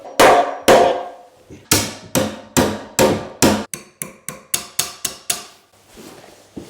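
Hammer blows ring out during a DIY alcove bed build, about fifteen sharp strikes, first spaced and heavy, then quicker and lighter in a steady run, close and loud with no talk.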